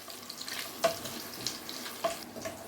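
Eggs and potatoes are stirred in a frying pan over a steady low sizzle, with two sharper scraping strokes of the spatula standing out near and clear against the constant frying hiss.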